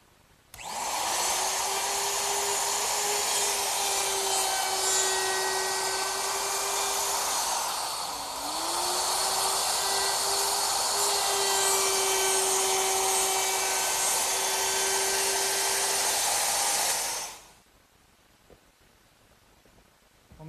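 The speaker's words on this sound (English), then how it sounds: "they also hold the piece securely in place while I route it. I've also switched to a 1/4 inch round over bit" Wood router with a 1/4 inch round-over bit easing the corners of a mission style sofa part: a loud, steady high whine that briefly dips mid-cut, then runs on and stops abruptly.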